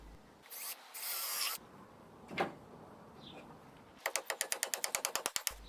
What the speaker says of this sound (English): I'll drill and nail the other end in the same way.